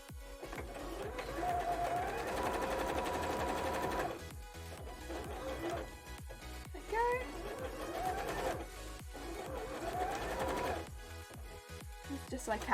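A sewing machine stitches a wide zigzag on slippery mesh fabric, its fast rhythmic whirring running in steady bursts with short pauses, while a person talks over it.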